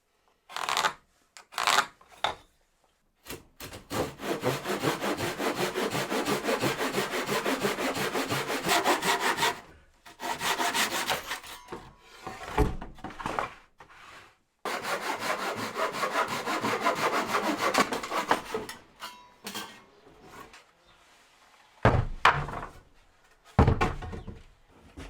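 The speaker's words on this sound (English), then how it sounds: "I'm going to cut them down into 3 pieces each board" Wooden deck boards, 3.6 metres long, being sawn into three pieces each for a storage garden bench; bursts of rasping saw strokes in long runs separated by short pauses and a few knocks, close and fairly loud, with no talking.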